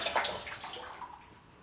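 Water pours steadily into a 900 gallon aquarium, a soft, continuous splashing rush that fades slightly toward the end, with no talking.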